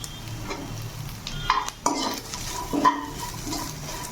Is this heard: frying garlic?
yes